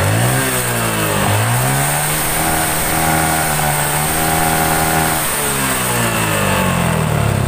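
A Yamaha Jupiter MX motorcycle engine revs loudly and steadily during a coil test, its pitch rising and falling with a few throttle blips, close and with no talk.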